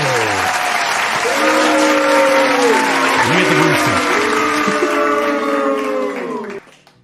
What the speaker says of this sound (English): let's give a nice, warm round of applause to our man, Staffinho.